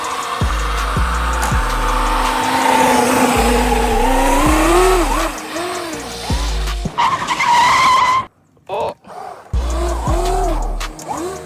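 A 6s Traxxas UDR RC truck drifts on ice, its high electric motor whining and sweeping up and down in pitch with rhythmic thumps, briefly cutting out before revving again, close and loud.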